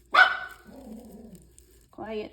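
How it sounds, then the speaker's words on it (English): A dog barks sharply a few times close by, with a spoken word from a person following the barks. "Apologies for the dog."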